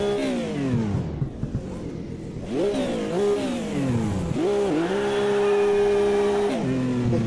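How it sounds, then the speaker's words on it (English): A race car in Automobilista 2 does burnouts, its engine revving hard in repeated rising and falling surges near and loud, with tire squeal over a continuous high whine. "Okay, burnouts time."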